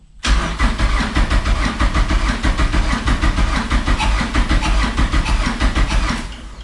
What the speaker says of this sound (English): we have a cranking car